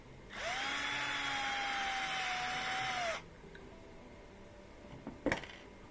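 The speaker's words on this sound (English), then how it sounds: "Undo these two screws. Yeah, these are just Phillips head, regular." A handheld power screwdriver whirs steadily for about three seconds while backing out a regular Phillips head screw from a clothes iron, then stops, followed by faint clicks and a brief metallic clatter.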